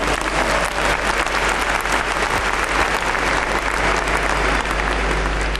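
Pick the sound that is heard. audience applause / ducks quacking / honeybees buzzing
audience applause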